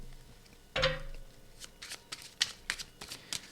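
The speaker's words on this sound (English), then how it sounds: "And yes, I shuffle these cards." Tarot cards being shuffled: a sharp riffle burst near the start, then a series of quicker, lighter riffles and snaps, close up with no voices.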